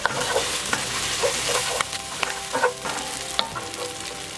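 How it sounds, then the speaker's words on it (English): Onions sizzle and crackle in a hot pan while being stirred, with scraping and light clinks of a utensil, steady and close. "just keep stir frying your onions until they're cooked."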